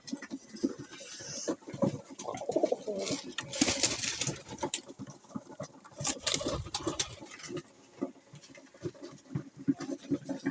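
Pigeons cooing and shuffling indoors on a rainy day, soft repeated coos mixed with rustling, pattering and wing movements, fairly faint and close.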